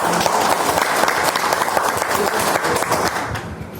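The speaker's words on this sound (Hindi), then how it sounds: "मैं आप सबकी जोरदार तालियों के बीच में" Loud, dense applause from a large crowd at a public gathering in Tiroda, sustained throughout and tapering slightly at the end.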